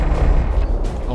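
In the naval strategy game Forts, deck cannons and artillery fire in a dense, booming barrage of overlapping heavy shots, loud and continuous across the moment, with talking mixed in.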